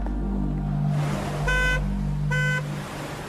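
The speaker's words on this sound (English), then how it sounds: "parked to the side of the road, honking its horn" A parked car sounds its horn at the roadside in two short, loud honks over a steady engine rumble and a low hum.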